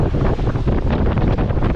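Gusty wind buffets a sailboat at sea near Martinique, a loud, rough roar that batters the microphone with uneven pulses and no voices.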